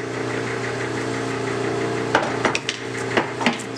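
A Do-All bandsaw's spindle runs up to around 371 RPM, a steady mechanical hum and whine from the machine with several sharp knocks and clanks near the end, no voices over it.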